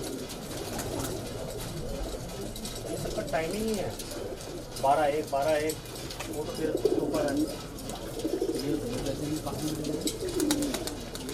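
Green high flyer kalpare pigeons coo inside a loft in bursts of soft, rolling calls, clearest around the middle, mixed with steady background noise while someone speaks throughout.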